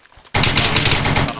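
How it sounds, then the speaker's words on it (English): Rapid automatic gunfire in DayZ breaks out abruptly after near silence, a loud, dense burst of shots that continues to the end. "Shots."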